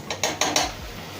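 Onion and ginger garlic paste stirred in a pan, giving four quick metallic scraping clinks of a spoon against the pan in a short, even burst, close and clear.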